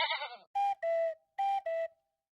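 A goat bleats twice alone, each call a pair of quick, loud, wavering cries after a brief stretch of a higher animated sound.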